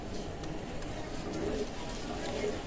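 A Pakistani Teddy pigeon coos softly and briefly under a dense, noisy background of other sounds and murmur.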